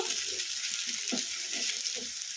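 Eggplant frying in oil in a pan over a high flame gives a steady, moderately quiet sizzle with a few soft stirring scrapes and no voices.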